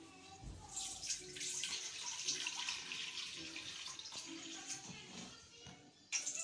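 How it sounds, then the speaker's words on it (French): Water is poured into a cooking pot set over a fire, a continuous splashing stream that stays fairly faint and ends with a brief louder clatter. "on met la marmite, on met de l'eau."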